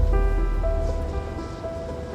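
Steady rain falls outdoors with a constant hissing patter, loud and even throughout, with a faint tonal hum underneath and no voices.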